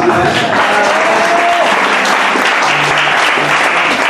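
Congregation at a church service for a Bible institute student certification applauding steadily and loudly, a dense wash of clapping with some voices mixed in, sustained throughout.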